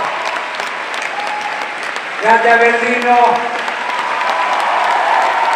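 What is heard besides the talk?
audience applause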